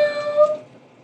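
A short electronic meow from a robotic toy cat, with a thin, tonal, synthetic quality, fading out quickly.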